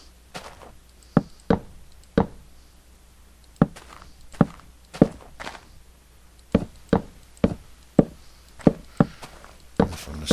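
Footsteps in the Minecraft video game, a steady series of sharp, knocking thuds in an uneven walking rhythm, fairly close and clear with no talk.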